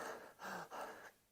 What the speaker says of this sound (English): Say I'm sitting here breathing like this.